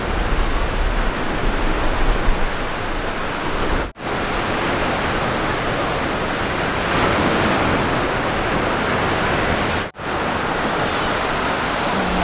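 Sea waves wash in steadily at Boracay beach, a loud, continuous broadband rush of surf with two brief dropouts.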